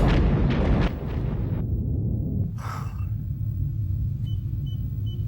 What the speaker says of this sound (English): Torpedo self-destruct, sir.